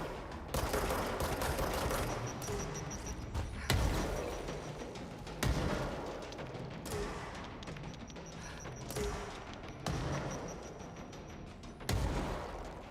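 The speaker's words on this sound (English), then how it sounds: "It's a lot of grenades." Grenade explosions and gunfire in the video game Control, dense rattling bursts of shots broken by several heavy booming blasts at irregular intervals, loud and continuous throughout.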